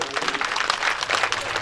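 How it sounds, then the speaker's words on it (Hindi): An audience at a Ram Katha religious discourse in Koliya, Rajasthan, bursts into loud applause. Many hands clap in a dense, sustained roar that fills the whole stretch. "जोरदार तालियों से स्वागत।"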